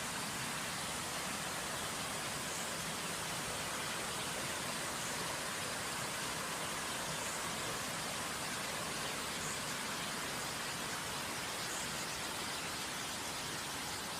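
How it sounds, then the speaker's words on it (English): A river rushing past a campsite in the morning, heard as a broad, unbroken hiss of flowing water at a steady level with no other sounds over it. "River is still awesome."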